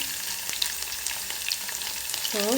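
Garlic and dried red chillies frying in well-heated oil for a cucumber dal, giving a continuous close sizzle with small pops and a brief squeaky scrape near the end.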